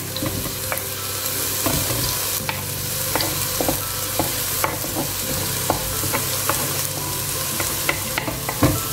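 Onions and garlic frying in a little oil, a steady close sizzle broken by regular clicks and scrapes of a utensil stirring the pan.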